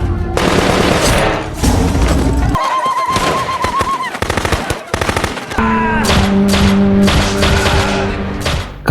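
Machine gun fire in a war film scene about elite American troops in Somalia, with loud rapid bursts of shots, a pause, then more volleys mixed with film music and other sounds.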